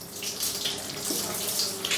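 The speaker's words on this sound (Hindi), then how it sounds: "जब 1-2 मिनट हो जाए तो उसके बाद फिर से पानी डालें।" Cold water pours and splashes steadily onto a wet cloth wrap on a leg, a soft continuous rushing sound that stays even throughout without any talk.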